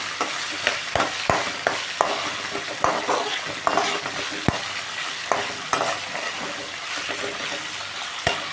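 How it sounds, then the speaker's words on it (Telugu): Drumstick leaves sizzle and crackle in a hot frying pan, a steady close hiss broken by sharp clinks and scrapes as a spoon stirs against the pan. "మునగాకు కూడా కరివేపాకులాగా వేగిపోయాయి"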